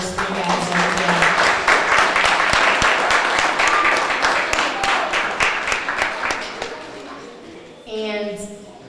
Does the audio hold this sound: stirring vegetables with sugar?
no